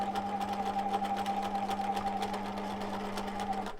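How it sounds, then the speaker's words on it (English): A sewing machine stitches elastic onto a fabric face mask, a fast steady mechanical whir with rhythmic needle ticks, close and unbroken by talk. "reverse stitch to secure the elastic"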